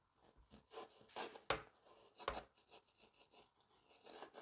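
A knife cuts an eggless chocolate chip brioche in half, making a few soft, close crunching and rustling strokes with quiet pauses between them.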